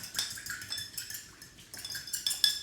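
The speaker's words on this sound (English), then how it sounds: "And you just want to get a fork. You just want to emulsify it." A metal fork whisks an olive oil dressing in a bowl for a salad with golden chicken. Quick, light scraping and clinking strokes tap out an irregular rhythm, close by and fairly quiet, with no talking.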